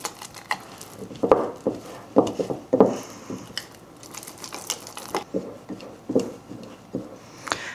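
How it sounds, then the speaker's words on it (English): Sourdough starter in a jar being stirred after a few grams of flour are added: soft, irregular scraping and clicking of a utensil against glass, quiet and close, in short bursts with pauses. "I'm gonna add a couple more grams of flour. Okay. And then we're just gonna stir this up"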